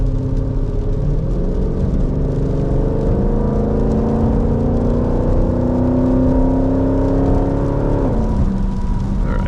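A 2020 Jeep SRT driving through New York City streets, its engine a loud, continuous close-up drone that rises slowly in pitch as it accelerates, then drops off sharply near the end, with no talking.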